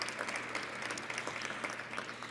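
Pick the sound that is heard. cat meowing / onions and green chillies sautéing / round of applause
round of applause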